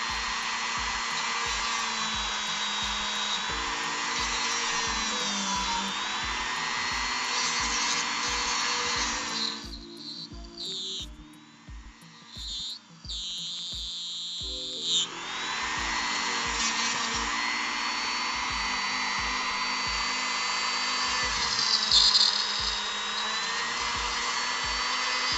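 A Dremel rotary tool whines steadily at high speed while working on a Marvel Legends action figure. The pitch wavers and dips briefly midway as the load changes, then returns to the same constant buzz.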